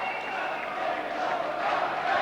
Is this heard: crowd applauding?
yes